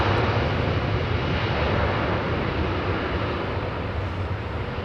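An Airbus A330neo at London Heathrow Airport produces a loud, continuous broadband jet engine roar that holds steady throughout.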